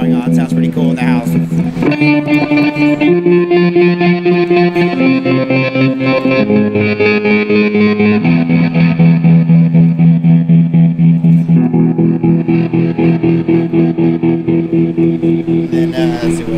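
Electric guitar run through a stereo effects preset on an Axe-Fx II plays loud, sustained chords and shifting notes, thick with modulation and echo, continuous throughout with no talking.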